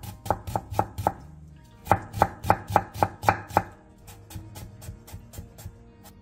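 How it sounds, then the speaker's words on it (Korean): A knife julienning half an onion and carrot slices taps sharply on a cutting board in quick rhythmic runs, a burst of four chops, a pause, then a steady faster series fading softer. "양파 2분의 1개와 당근 7장을 채 썰어주세요."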